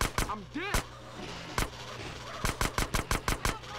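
Bursts of gunfire from the video game GTA San Andreas during an ATV chase: a couple of early shots, one more near the middle, then a quick run of about seven sharp cracks at the end, loud over a steady engine-like drone.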